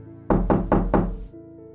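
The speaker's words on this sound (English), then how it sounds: "only to wake up to the knocking again" Four loud, evenly spaced knocks on a door, close and sharp, each ringing briefly, followed by a faint low hum after they stop.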